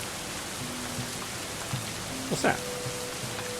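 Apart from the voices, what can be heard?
rain in video game Going Medieval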